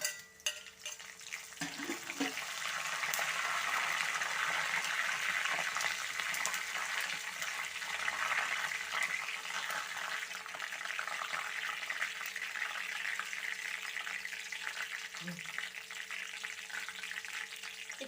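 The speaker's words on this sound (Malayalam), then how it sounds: "ഉള്ളി ഒന്ന് മൂത്ത് വന്നിട്ടുണ്ട് നമുക്ക് കറിവേപ്പില ഇട്ട് കൊടുക്കാം" Curry leaves dropped into a pan of browned onions give a steady, soft sizzling hiss with a couple of faint clinks from the pan along the way.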